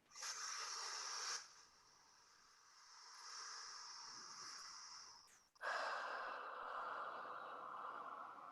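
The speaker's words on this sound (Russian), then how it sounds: "И мы на 5 секунд вдыхаем и на 5 секунд выдыхаем." Slow, deep breathing for a coherent breathing exercise, a long airy inhale and then a long exhale, close and soft with a quiet pause between.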